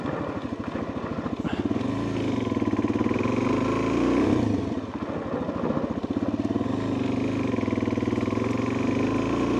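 Motorcycle climbing a gravel road hill with the rear tire slipping, a close, steady thumping engine with rises and dips in revs and gravel clatter throughout, no talking.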